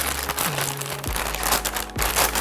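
An ASUS TF RX 7800 XT graphics card being slid out of a plastic bag, with close, continuous crinkling of the plastic over a low hum and no speech.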